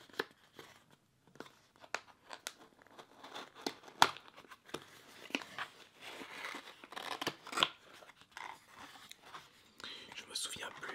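A Nintendo 3DS XL being unboxed in a close, quiet ASMR setting: crisp snips, crinkling and tearing of packaging and clicks in irregular bursts, with soft whispering throughout.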